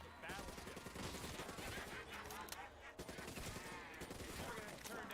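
A Tommy-gun-like automatic weapon in the zombie video game Call of Duty Shadows of Evil fires in rapid, rattling bursts, dense and loud, with a short break near the middle and game noise around it.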